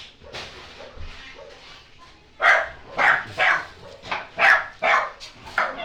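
Dogs bark repeatedly at close range, a quick run of loud, sharp barks after a few softer yips and whimpers.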